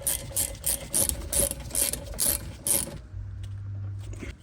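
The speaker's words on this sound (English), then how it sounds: "Then once they're started, tighten them down with a wrench." A ratchet wrench tightens the rear brake caliper slide bolts on a 2013–2019 Ford Escape, giving quick rhythmic clicking bursts up close for about three seconds, then stopping and leaving a low hum.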